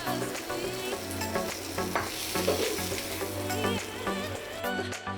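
Cauliflower sizzles steadily in oil in a wok, with repeated scraping strokes of a spatula stirring it, close and continuous with no talking.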